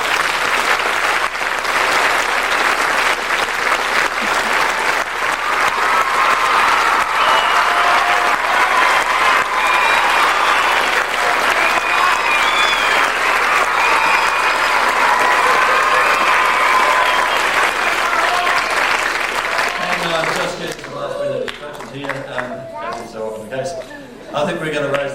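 Loud, sustained applause from a school play audience fills the hall for about twenty seconds, then thins out as voices and talk take over near the end.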